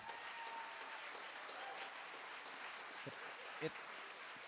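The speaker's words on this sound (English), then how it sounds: "Give me a hand of applause." Audience applause at a church service, a steady wash of clapping from a crowd heard from a distance, fairly faint and continuous throughout with a few sharper claps near the end.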